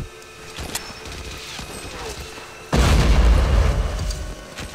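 Grenade explosions in the video game Hidden and Dangerous 2, a heavy booming blast erupting partway through after quieter background sounds of combat, loud and rumbling as it decays.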